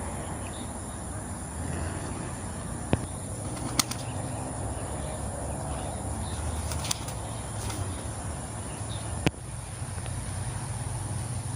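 Pigeons flap their wings near a loft trapdoor, a soft continuous fluttering under steady outdoor noise. A few sharp clicks and knocks stand out, and a voice is heard faintly.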